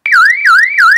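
A loud electronic alarm from a Mac security app warbles up and down, repeating its rising-and-falling whoop three times in quick succession.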